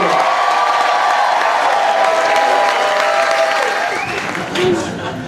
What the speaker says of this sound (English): How about a big round of applause for your headliner tonight, Eric Neumann, everybody!